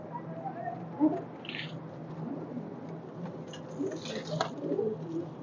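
Pigeons, including a female jag-necked pigeon, coo softly in a loft, low repeated coos over quiet background rustle, with a brief soft thump and faint chirpy bird calls scattered through.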